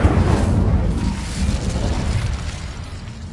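Incendio fire spell cast in Hogwarts Legacy, a loud whooshing burst of flame that roars at onset and then settles into a sustained crackling rumble, with no voices.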